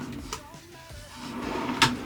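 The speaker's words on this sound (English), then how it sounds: "Got a cutlery drawer?" A cutlery drawer in a camper van conversion slides open and shut, giving a couple of short knocks and rattles, the loudest near the end, fairly close and moderately quiet.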